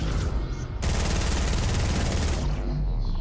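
Rapid, loud automatic gunfire in Fortnite, a sustained burst of shots aimed at a cube that starts abruptly and runs for about a second and a half before cutting off into quieter ambience.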